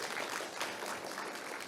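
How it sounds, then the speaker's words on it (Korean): Quiet applause at an international seminar on corporate manslaughter law as the seminar chair is welcomed, a soft, even patter of many hands heard from a distance. "큰 박수로 환영해 주시기 바랍니다"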